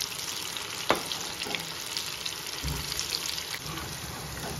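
Prawn pakoda deep-frying in hot oil: a steady, moderately quiet bubbling sizzle with a soft clink early on, no voices.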